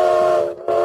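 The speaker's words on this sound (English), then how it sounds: "We now have the steam game sound effect." A steam whistle sound effect blasts loud and shrill, a steady hissing tone that briefly dips before resuming at full strength.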